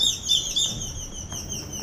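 Birds chirping outdoors at a holiday apartment in Akumal, Mexico: repeated bright, high tweets in quick clusters over a soft background hiss, fairly close and clear, with no voices.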